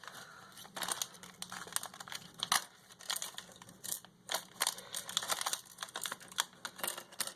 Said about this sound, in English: Let me just cut that open so I can show you guys